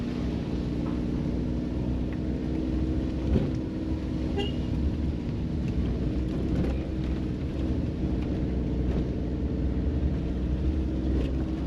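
Car climbing the steep, rough mountain road to Zuluk in East Sikkim, its engine droning steadily and close throughout, with low rumbling road noise and a few faint knocks over the run, no one talking.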